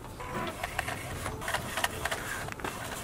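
A DTG printer prints onto a t-shirt laid flat on a chest platen. Its print head makes a soft mechanical whir with quick, irregular clicks and ticks, fairly faint and close, lasting a few seconds.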